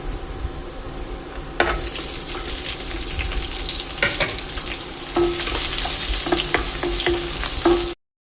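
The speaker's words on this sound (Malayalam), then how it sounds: "വെളുത്തുള്ളി നന്നായിട്ട് മൂത്ത് കിട്ടണം. അതിലേക്ക് ചുവന്നുള്ളിയും കൂടെ ചേർക്കാം." Chopped garlic and shallots sizzle and crackle in hot oil in a pan for a mathanga (pumpkin) dish, a steady close frying hiss with occasional stirring clatter and sharper pops, heard alone without talk.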